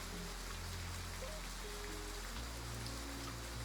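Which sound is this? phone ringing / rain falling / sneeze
rain falling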